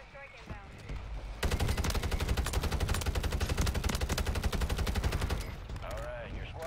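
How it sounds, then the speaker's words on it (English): A mortar strike in Call of Duty Warzone lands as a dense, rapid barrage of loud explosive bursts lasting several seconds. The barrage starts abruptly after a quieter stretch, then fades back into game ambience. "Mortar strike inbound."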